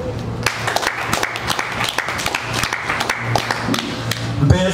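A church congregation applauds, a sustained wash of many hands clapping at moderate distance with a few sharper claps standing out and faint voices mixed in.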